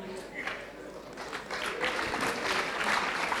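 An audience claps at a Kinyarwanda comedy show, with scattered clapping that thickens into fuller applause in the second half, heard alongside a person talking.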